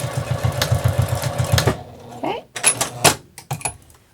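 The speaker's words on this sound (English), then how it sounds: "And I'm going to sew down, and I'm going to back stitch." A domestic sewing machine stitching through thick upholstery fabric for an origami tote bag, a fast rhythmic mechanical chatter for about a second and a half, followed by short clicks and clunks as it reverses for a back stitch.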